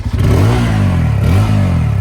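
Loud, close revving of a 2024 Bajaj Pulsar N250 motorcycle's twin-outlet exhaust: a quick blip, then a sustained rising and falling rev that swells twice, with no voices.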